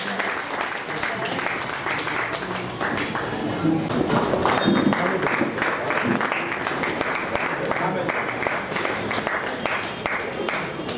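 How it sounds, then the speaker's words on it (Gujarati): An audience at an organ-donation awareness event at a medical centre applauds to honour someone, with dense, sustained clapping that stays loud and even throughout, and no clear speech. "એમનું સન્માન થઈ રહ્યું છે તાળીઓથી વધાવીએ"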